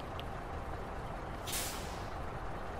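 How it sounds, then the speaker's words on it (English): A truck's air brakes release in the video game SnowRunner: a short, bright hiss bursts out midway over a steady engine rumble. "Now we're gonna release the brakes again."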